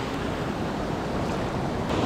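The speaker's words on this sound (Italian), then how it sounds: "Infatti, guardate che onde che ci sono." Pacific Ocean surf breaking on a surfers' beach in Costa Rica, a loud continuous broadband roar of waves and wash close by, with some wind buffeting the microphone and no voices.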